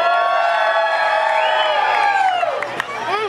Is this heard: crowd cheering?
yes